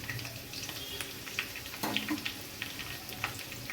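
Potatoes frying in oil in a pan as a bay leaf and whole garam masala go in, producing a dense, continuous sizzle with light clinks and a brief louder burst, close and steady, with no talking.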